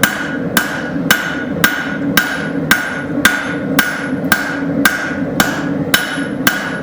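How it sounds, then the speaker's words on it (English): Hammer peening a railroad spike on an anvil while forging a knife, with about a dozen sharp, ringing metal strikes in a steady rhythm. The blows are close and loud, with bright ringing decays between them. "I'm putting peen marks in on this side. The anvil's taking them out on the other side."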